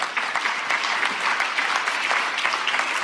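Audience applause during a speech, a dense, even wash of many hands clapping that holds steady and fairly loud for the whole stretch.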